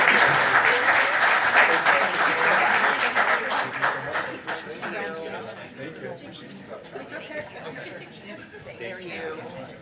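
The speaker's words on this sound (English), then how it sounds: "Another round of applause for all of the" A crowd at a school board of education meeting applauds volunteers, dense clapping that starts loud and gradually thins and fades, with scattered chatter beneath it.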